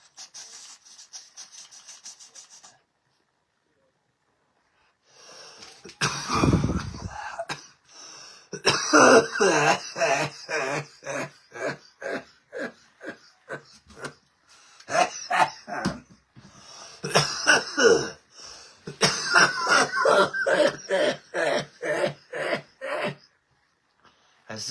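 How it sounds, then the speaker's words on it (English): Harsh coughing and throat clearing up close, coming in repeated bursts and fits with short pauses between. "I said my coughing wasn't as much."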